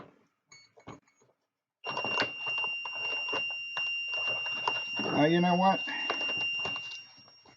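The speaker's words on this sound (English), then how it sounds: "I think that's the lost plane alarm" A lost plane alarm sounds as a thin, continuous high-pitched electronic tone that starts abruptly and holds steady under someone talking nearby.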